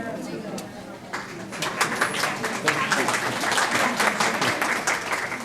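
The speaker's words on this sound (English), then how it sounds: "thank you for the applause" A university lecture audience gives a warm round of applause to welcome a speaker. The clapping starts faint and swells into a dense, steady patter from many hands, with a voice talking underneath.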